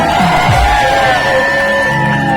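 An audience at a Konkan Naman folk performance erupts in loud whoops and cheering after a dance by two young girls. The noise stays dense and steady throughout, with no pauses.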